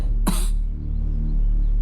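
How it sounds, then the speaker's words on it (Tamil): A man gives a single sharp, loud cough close up, followed by a low steady hum with no talking. "காலையிலேருந்து ஒரே இருமல்."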